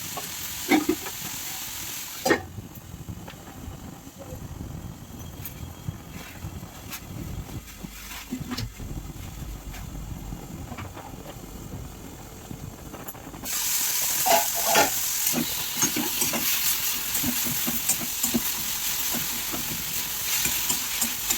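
Tomatoes sizzle and fry in a pan while a spoon stirs them now and then. A steady hiss runs throughout with scattered scraping clicks, and it grows louder and brighter near the end.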